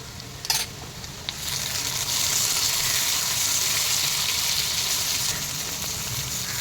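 Tomato frying in a pan alongside onion in a home kitchen, a steady close sizzle that swells up after a short clatter and holds evenly to the end, with no voices.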